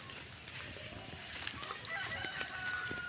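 A chicken clucks faintly in the distance amid outdoor ambience, with a soft voice in the background.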